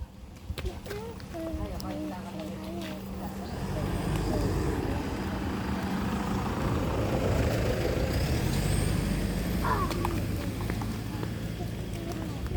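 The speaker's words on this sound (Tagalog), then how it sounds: "May sasakyan." A truck arriving on a mountain road in a rural outdoor setting, its low engine rumble building and then holding steady through most of the clip, with a faint higher whine above and people's voices talking over it.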